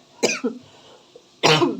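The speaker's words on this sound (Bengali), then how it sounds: "একটু কাশি হয়ে গেছে, জানি না কেন" A woman coughs close up: a quick pair of dry coughs, a pause, then one more forceful cough, heard alone in a quiet room.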